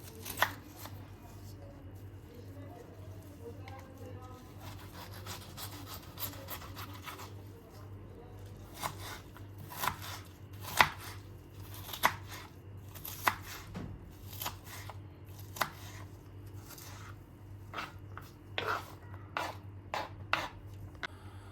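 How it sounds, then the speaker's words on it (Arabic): Knife chopping onion into small slices on a board, a run of sharp irregular taps that quicken toward the end, heard close over a steady low background hum. "نبدأ نقطع البصل بتاعنا، نقطعه شرايح كده صغيرة كده"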